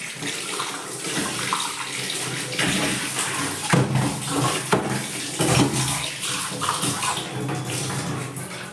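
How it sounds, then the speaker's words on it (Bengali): Water from a tap runs steadily over a freshly scrubbed tea cup as it is rinsed, a close, continuous splashing with small bursts and changes as the cup moves under the stream. "মাজা হয়ে গেছে এবার ধুয়ে নিই"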